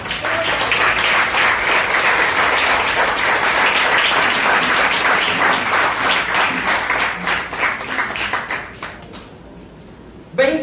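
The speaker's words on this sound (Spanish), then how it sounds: "para quien pido un grande aplauso" A church congregation breaks into loud, sustained applause for the Lord during a stewardship sermon; dense clapping fills most of the stretch before thinning out and stopping near the end.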